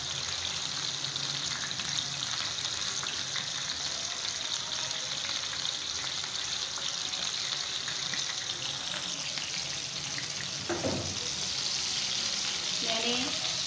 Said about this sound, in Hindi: जितनी देर में हमारे कबाब फ्राई हो रहे हैं